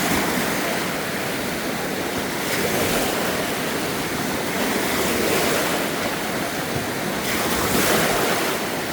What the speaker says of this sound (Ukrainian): От вам і басейн хвиля